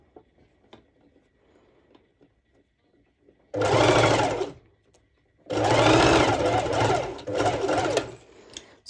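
A sewing machine runs a straight stitch at high stitch length in three close, loud whirring bursts, the first about a second long and the next two back to back, with quiet handling between them.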